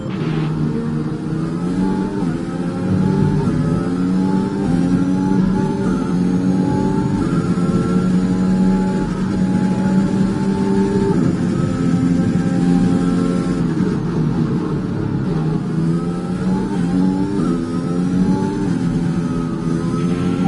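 A Formula 1 car engine in the F1 2021 video game at Sao Paulo runs through a formation lap, a loud continuous high-pitched whine whose pitch steadily rises and falls with throttle and gear changes.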